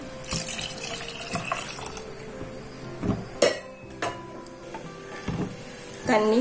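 Water splashes and trickles into a pot of lentils for lemon rasam, with a few sharp clinks of metal and brief pauses between pours.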